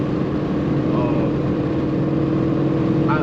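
Ford Mustang GT V8 engine with a new exhaust setup lacking catless pipes, a steady, fairly loud rumble heard from inside the car during a drive, continuous with no gaps.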